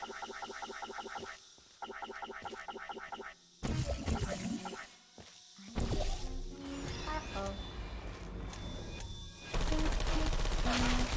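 Turret in a Portal-style puzzle game, rhythmic mechanical firing patterns early on, then louder bursts and clattering shots with game effects, no speech.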